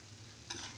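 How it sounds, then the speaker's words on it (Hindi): Mawa (milk solids) roasting in a pan, heard as a faint, steady sizzle that grows louder as stirring scrapes through midway. "अब जब ये मावा भुन रहा है"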